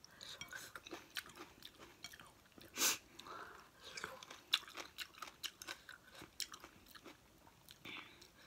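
Someone eats crunchy rice crackers with papaya salad, making repeated crisp bites and wet chewing close to the microphone, with a louder crackle partway through and someone speaking quietly between mouthfuls.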